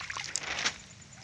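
Water splashed by hand onto cucumber plants grown on reused land, a few quick close sloshes and splatters over a quiet background.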